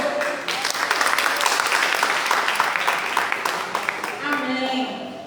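A church congregation claps and applauds together during a 2026 worship service, a dense, loud wash of clapping that stays steady for several seconds.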